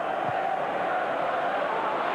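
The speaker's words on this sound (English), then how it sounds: "give this noisy crowd even more to shout about" Noisy Premier League football crowd at Manchester United against Arsenal, a constant broad rumble of thousands of voices holding steady throughout, with a faint brief shout rising out of the mass near the start.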